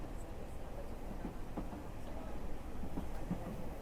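Train ride in the video game 428: Shibuya Scramble: a steady low rumble of a moving railcar with faint, irregular clicks over the rails, continuous and subdued.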